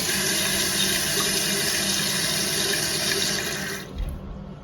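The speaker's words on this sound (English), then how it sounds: "now I'm gonna do another flush check for the tank to make sure everything's flowing through together" A household toilet flushes, with water rushing steadily through the tank and bowl in a loud, close, continuous roar that tapers off sharply near the end into quieter trickling.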